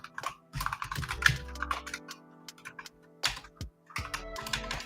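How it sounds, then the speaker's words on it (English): Notes are typed on a computer keyboard in quick irregular bursts of crisp close key clicks with short pauses between runs, no voices. "So maybe you're typing your notes here on what to do"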